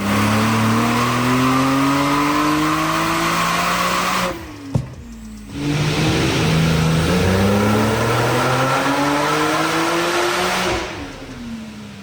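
A tuned Porsche 992 Turbo S engine revs hard through rising gears, cuts briefly to near silence, then roars back up through several more upshifts, loud and close.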